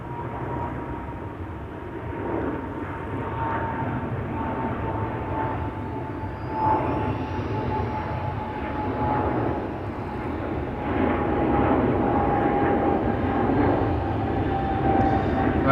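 KLM flight 1219 to Oslo takes off from Schiphol's Polderbaan, a deep sustained jet roar with a thin steady whine riding on top, slowly swelling louder toward the end, heard fairly close without voices.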